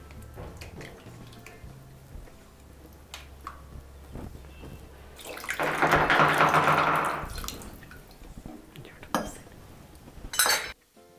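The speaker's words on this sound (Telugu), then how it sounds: "కలుపుకున్న శనగపిండి మిశ్రమాన్ని మజ్జిగలో కలపాలి." Gram flour batter being stirred into buttermilk in a pot for majjiga pulusu, with a faint rhythmic scrape and clink of a utensil, a brief louder splash-like swell of mixing in the middle, and a few sharp metallic taps near the end.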